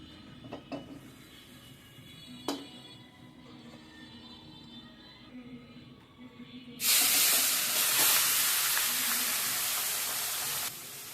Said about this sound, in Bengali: কড়াইয়াতে তেল দিয়ে দিব তেল দিয়ে মাছগুলা ছেড়ে দেবো